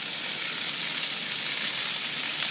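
Ingredients for paella browning in a hot pan give a steady, close, loud sizzle and fry that carries on evenly throughout, with no talking.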